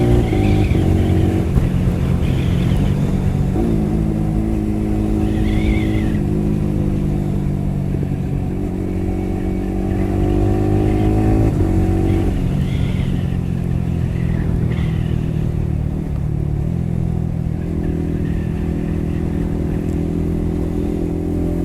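A Yamaha R15 motorcycle fitted with an aftermarket electronic throttle revs steadily close by, its engine note rising and falling in repeated swells over a constant droning idle.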